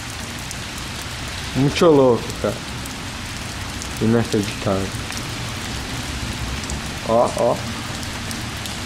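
Steady rain falls in Dublin with a constant hiss and patter close by, while someone speaks in short bursts over it.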